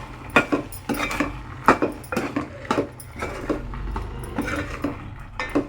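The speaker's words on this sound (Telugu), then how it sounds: "బాగా కలుపుకోండి." A spoon stirs coconut paste into a gravy in a metal pot, giving repeated scraping clinks and knocks at an uneven rhythm, close and moderately loud, with no talking.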